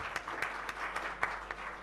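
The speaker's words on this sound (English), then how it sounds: "Please give a big round of applause" Faint applause from a conference audience, a thin patter of scattered claps continuing for under two seconds at a distance, with no voices over it.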